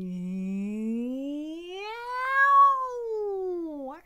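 A human voice imitates a cat's meow, a single long sung tone gliding from low to high and falling again at the end, clear and close with no other sounds.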